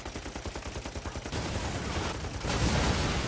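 Gunfire from Army of Two: The Devil's Cartel video game begins as a rapid rhythmic machine-gun burst of evenly spaced shots, then merges into a dense, loud, continuous fusillade that intensifies toward the end.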